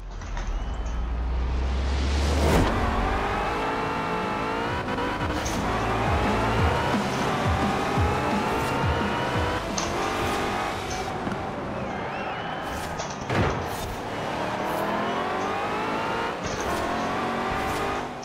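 A hot rod's engine revs hard in Forza Horizon 4, loud and close throughout, the pitch climbing and dropping through repeated gear changes, with a brief impact thud partway through.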